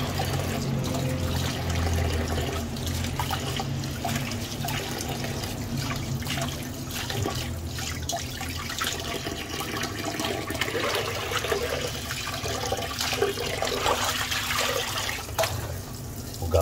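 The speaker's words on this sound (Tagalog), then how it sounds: "Hugasan ng gusto guys para matanggal yung dugo" Milkfish rinsed under running water from a tap to wash out blood, a steady close splashing and trickling flow that continues throughout without a break.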